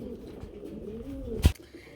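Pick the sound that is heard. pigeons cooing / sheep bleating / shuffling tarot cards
pigeons cooing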